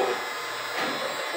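A soybean meal extruder machine running, a loud continuous mechanical whirring drone held steady throughout, close by with no talking.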